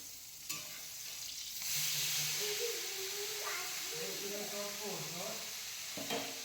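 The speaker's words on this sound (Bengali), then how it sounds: "এদিকে মাছ ভাজা করছি এই যে রুই মাছ কিনেছি সেই রুই মাছ ভাজা করছি" Rohu fish pieces fry in a pan with a continuous hissing sizzle that swells and crackles, close by, while a few faint voices murmur in the background.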